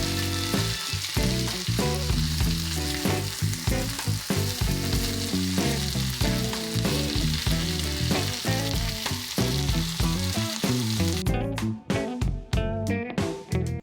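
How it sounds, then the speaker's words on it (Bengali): Eggplant fries in oil with turmeric, a loud continuous sizzle with repeated stirring clatters and scrapes in an uneven rhythm throughout, close and prominent with no talk. "সামান্য হলুদ দিয়ে বেগুনগুলো ভেজে নেব যাতে দেখতে ভালো লাগে।"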